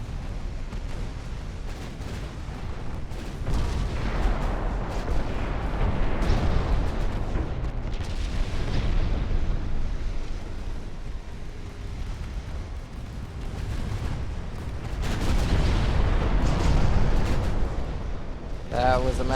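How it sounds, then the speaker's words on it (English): Massive explosions in the naval warfare game Ultimate Admiral: Dreadnoughts, a long, loud rumbling roar of booming blasts that swells and fades over nearly twenty seconds, with a voice talking over it. "That was a massive explosion."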